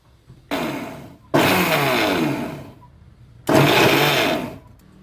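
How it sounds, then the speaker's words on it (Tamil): A kitchen mixer grinder blitzes torn bun pieces in its jar for bun halwa, a loud whirring motor running in a short burst, then a longer run, and after a pause another long burst, with no talking. "இப்போ பண்ணை மிக்சி ஜாரில் பிச்சு போட்டு மிக்சியில் அடிச்சுட்டு வந்துடுவோம்"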